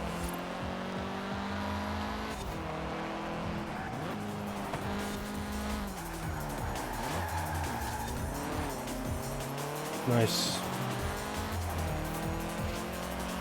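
A car in the racing video game Forza Horizon 4 drives hard with a continuous engine roar and repeated tire squeals through the corners, loud and steady, and a voice speaks briefly near the end.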